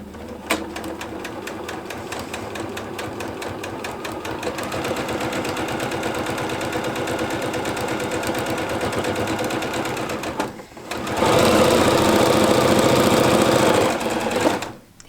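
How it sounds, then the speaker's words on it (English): A sewing machine stitching a quilting seam runs in a loud, steady mechanical whir, pausing briefly before resuming faster and louder, with no talking. "take it to your sewing machine. You're gonna sew all the way down one side"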